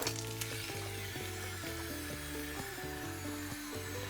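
Thin lavash-style flatbread frying in a pan, a steady close hiss of sizzling with faint tonal hum and occasional scraping, no voices over it.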